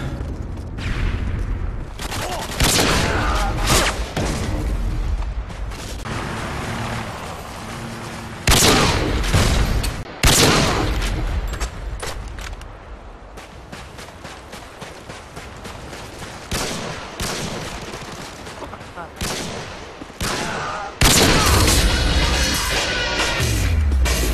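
Hostile gunfire and shelling in a video game: heavy bursts of shots and booming explosions come in loud clusters, broken by quieter gaps of scattered firing and crashes.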